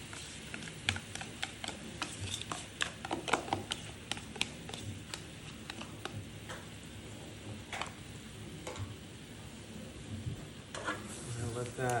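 Creamy tomato sauce for spaghetti and meatballs simmering in a pan, with steady soft bubbling broken by quick popping clicks and spits, close and quiet with no talk.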